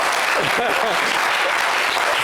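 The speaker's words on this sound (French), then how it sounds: "On applaudit Eva Gay, s'il vous plaît." An audience claps enthusiastically, a dense steady burst of applause with a voice briefly audible over it.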